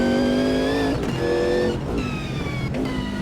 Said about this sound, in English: All the while being treated to a wonderful V8 noise.